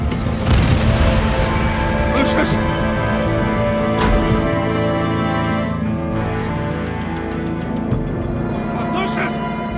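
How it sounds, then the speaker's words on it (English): A loud explosion booms in the Telltale Games title Batman: The Enemy Within, with a deep rumbling blast near the start and another burst around the middle. Game music and voices continue over it. "1 killed and 14 injured after a tragic explosion"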